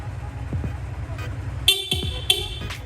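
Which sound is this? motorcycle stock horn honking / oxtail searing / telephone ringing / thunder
motorcycle stock horn honking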